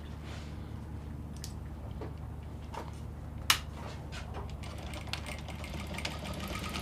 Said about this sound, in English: I'll show you how to join it on the sewing machine now